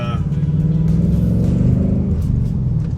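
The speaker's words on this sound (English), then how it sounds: "listen to this car." A Ford Tremor truck engine rumbles loud and close in stop-and-go traffic, revving steadily with a deep throaty growl throughout.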